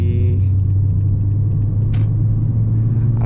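A car pulling onto a highway in windy winter weather rumbles steadily with loud, close engine and road noise and a brief higher whoosh in the middle.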